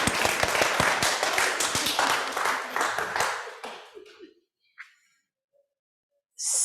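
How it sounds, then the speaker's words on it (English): A congregation claps together in a steady patter for several seconds, then the applause fades to silence and picks up again at the very end. "So we're going to do some more fun things in a minute, like clapping"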